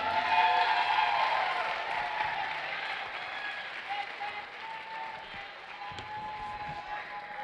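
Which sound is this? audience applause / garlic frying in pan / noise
audience applause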